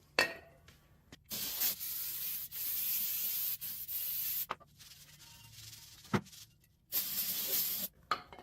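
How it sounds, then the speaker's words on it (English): A red Scotch-Brite pad scrubs new exhaust parts in repeated bursts of harsh, hissing rubbing, each lasting a second or more. The strokes are separated by short pauses and a few knocks. "So we're going to saturate them, scrub them down, rinse them off, and blow them dry real quick."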